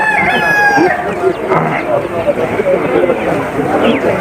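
A rooster crows at a busy poultry market, one loud nearby crow at the start, followed by clucking fowl and a murmur of people talking in the background.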